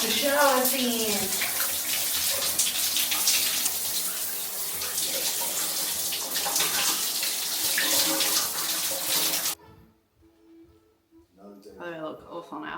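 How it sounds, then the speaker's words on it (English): A shower runs close by as a steady, loud rush of spraying water, then shuts off abruptly near the end, leaving a few quieter handling sounds. "The shower scene."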